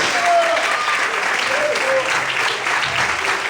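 A church congregation applauds during an evening worship service, a loud, dense and continuous burst of clapping with faint voices calling out beneath it.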